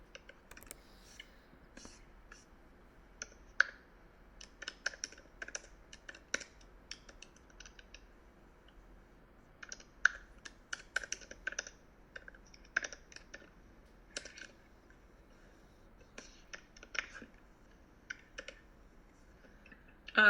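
Typing on a computer keyboard while entering code into a shell, irregular bursts of soft clicking keystrokes with pauses between them, close and fairly quiet, with no talking over it.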